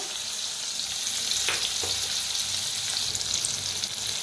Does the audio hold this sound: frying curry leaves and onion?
yes